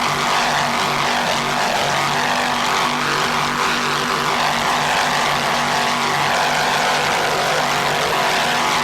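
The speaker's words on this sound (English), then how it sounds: "Two Troy Denison boards, two 640 horsepower Troy Denison boards, powering Dragon Lady with number 3 Merc Cruiser drive." Twin 640 hp Troy Denison engines with a Merc Cruiser drive power an offshore racing powerboat at a 1994 grand prix, giving a loud, steady, continuous roar that holds level the whole time with no talk.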